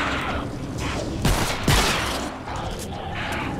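Gunfire from shooting zombie husks in the video game Fortnite, with a steady stream of rapid shots under a noisy background and two louder bursts standing out midway.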